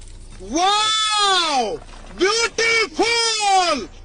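A goat bleats three times in loud, close, wavering calls, the first long and the last two following a short broken cry, heard during a comic scene with goat traders.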